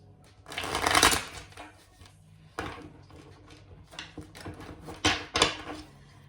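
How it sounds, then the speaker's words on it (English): A deck of cards being shuffled in several quick riffling bursts, close and crisp, with quieter pauses between. "One more shuffle."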